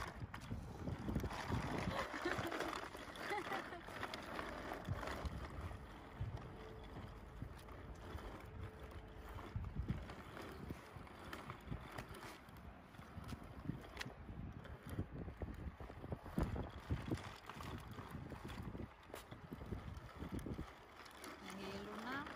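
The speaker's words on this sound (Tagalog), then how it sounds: "Medyo mahangin" Steady wind buffets the microphone in rough gusts throughout, with voices talking faintly underneath.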